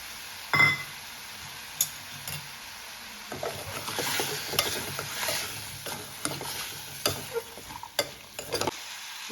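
Sweet corn kernels tipped into a pan for chicken soup and stirred as they fry, with an opening clatter, then a steady soft sizzle broken by repeated spoon scrapes and clinks, fairly close and with no voices.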